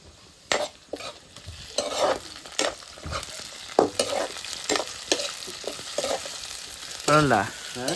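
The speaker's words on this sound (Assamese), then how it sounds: "এতিয়া মই কাটি থোৱা বিলাহীটো কেৰাহীৰ ভিতৰত দি দিলোঁ।" Chopped tomato dropped into a hot kadai, sizzling and being stirred with repeated scraping strokes, a close, moderately loud crackle throughout, with no talking.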